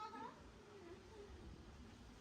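A house cat gives a short meow at the start, faint and somewhat distant over low room noise, followed by quiet background.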